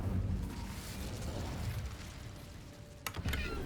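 An Incendio fire spell is cast in Hogwarts Legacy, a low whooshing, rumbling burst with sharp crackling pops near the end, sounding up close and moderately loud.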